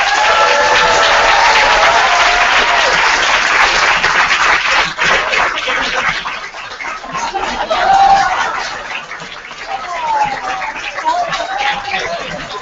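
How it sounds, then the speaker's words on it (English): An audience at a kindergarten fashion show applauds loudly and steadily at first, then the clapping thins and fades, with scattered laughter and voices mixed in toward the end. "Please applaud"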